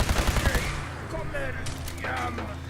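Ship cannon broadsides in Fallout 4, a quick rapid volley of booming shots at the start followed by rumbling echoes, with faint voices underneath.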